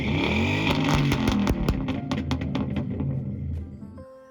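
A Ford Crown Victoria engine revs repeatedly through a modified exhaust, sharp pops and crackles punctuating the rising and falling revs before it settles to idle, close and fairly loud.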